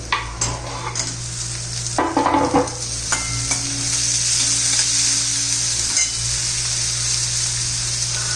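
Chopped onion and tomato sautéing in a pan for spicy Maharashtrian baingan bharta, a continuous loud sizzle with scraping stirs and a few utensil clinks, no talking.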